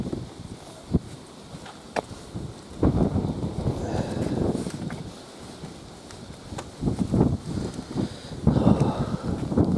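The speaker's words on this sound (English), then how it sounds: "Windy weather. Yeah, it's windy." Gusty wind buffets the microphone in low, rumbling waves that swell louder in bursts, with no clear voices over it, at Robertsbridge Junction railway station.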